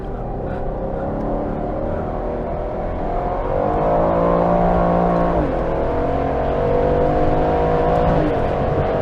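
An Aston Martin Vantage F1 Edition in track mode revs loudly from the cabin on a circuit, engine drone climbing and dropping through gear changes with a steady roar throughout.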